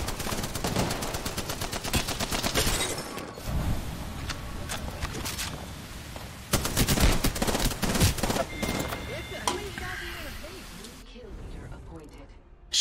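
Rapid PUBG gunfire rattles in dense automatic bursts and volleys of shots, loud and close, broken by short pauses, while people talk over the shooting.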